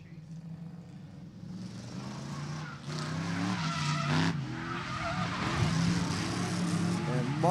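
A Ford Mustang drift car in a competition chase run squeals its tires, and the engine roar builds and grows louder toward the end, with a commentator talking over it.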